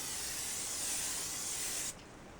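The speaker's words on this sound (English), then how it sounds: "Spray your baking sheet with nonstick spray." Nonstick cooking spray hisses from an aerosol can onto a baking sheet in one continuous close burst of about two seconds, then cuts off abruptly.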